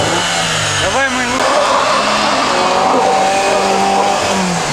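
A Renault Duster climbing an off-road hill, its engine revving loud and close with rising and falling pitch and a brief tyre squeal; people talk over the engine noise.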